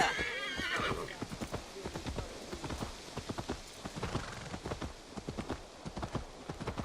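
Horse in Assassin's Creed Valhalla, a whinny at the start followed by a steady run of clip-clopping hooves, close and moderately loud, against light rain-like ambience.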